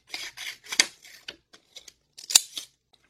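Scissors cutting a sticker into pieces, a series of crisp close snips and paper rustles in short irregular bursts, then a few faint clicks, with no talking.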